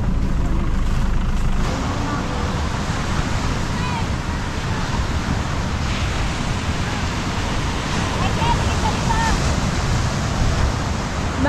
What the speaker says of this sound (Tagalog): Sa Batangas Pier na kami, guys.